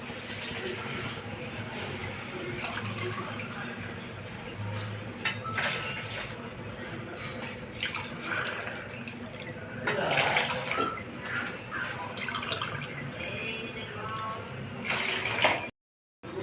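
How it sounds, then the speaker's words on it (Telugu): Water being poured into a pan of semolina for dry upma, a steady splashing, running flow lasting many seconds with clinks of the vessel, briefly cut off near the end. "దీనికి 5 గ్లాసుల రవ్వకి 6 గ్లాసుల వాటర్ మాత్రమే పోస్తున్నాం."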